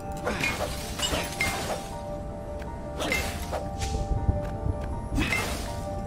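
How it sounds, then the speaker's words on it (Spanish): Crystals shatter repeatedly in the video game Stories: The Path of Destinies, with sharp glassy smashes and tinkling fragments recurring every second or so over a steady game soundtrack. "Ah, mira, los cristales que se rompen."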